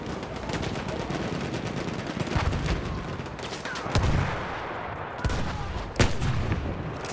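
Martini-Henry rifle gunfire in Battlefield 1 multiplayer, set amid a dense battlefield din of shots, blasts and rumbling, with a few sharper cracks standing out over continuous loud background noise.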